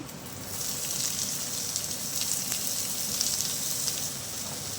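Onion frying in hot oil with cumin, mustard seeds and asafoetida for stuffed brinjal, a steady, crackling sizzle close up that swells slightly after the first second and then holds, with no voices.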